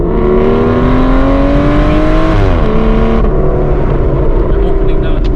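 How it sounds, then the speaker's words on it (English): The 6-liter V12 engine of an Aston Martin Vanquish runs loud and close, its steady drone rising in pitch and then dropping back as the revs fall, with someone talking over it. "Listen now. Listen to this V12."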